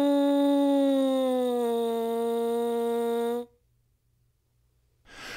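A horn mouthpiece played alone, buzzing a single sustained siren tone that slowly slides downward in pitch for about three seconds and then stops abruptly, followed by silence and the start of another buzz.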